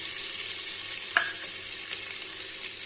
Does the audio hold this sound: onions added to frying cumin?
yes